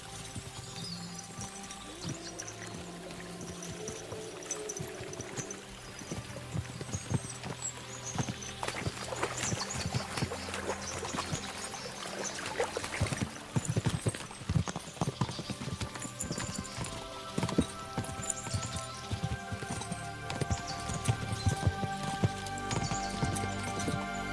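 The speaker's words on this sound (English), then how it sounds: "As soon as we cross the stream, we'll give the horses a gallop again." Horses gallop in the medieval video game Kingdom Come Deliverance 2, a continuous rapid clip-clop of hooves crossing ground near a stream, steady and fairly close, with a brief neigh and faint ambient splashes.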